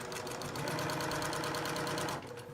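A sewing machine hums along at a brisk, even pace, a close rhythmic whirring that runs steadily and eases off at the end.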